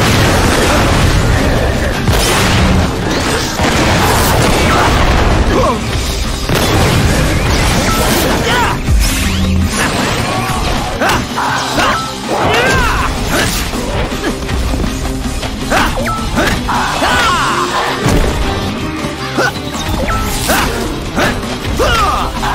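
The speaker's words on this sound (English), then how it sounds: "Maybe I can use the explosion to my advantage." Explosions in the Generator Rex game or cartoon crash and boom loudly and almost continuously, with heavy impacts, mechanical clanks and bursts, partly under a speaking voice.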